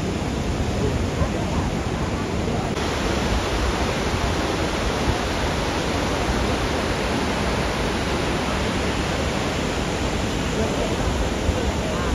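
The Barachukki waterfalls at Shivanasamudra give a steady, dense roar of falling water that stays even and unbroken throughout, with no talk over it.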